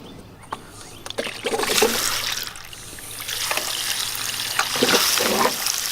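Water running from an outdoor garden spigot at the front of a house, a steady trickling splash close by that swells and thickens midway and keeps flowing to the end.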